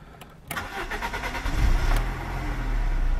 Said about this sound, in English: the car starts and idles nicely